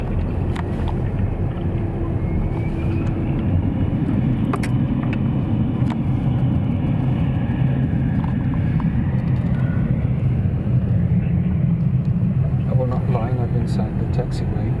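A jet engine runs on a ground test inside a noise abatement hangar at Munich airport. It gives a distant, steady low roar, with voices and some wind noise over it.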